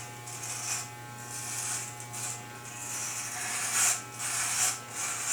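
Electric hair clippers buzz steadily and close up while shaving a head for a fade, the hum swelling and dipping in a rhythmic pattern as passes are made, with no talking.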